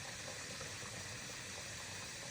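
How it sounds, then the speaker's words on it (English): Rainwater from a collection tank pours steadily into a bottle, a continuous broadband splashing gush at moderate level with no voices. "And then I will fill the bottle up."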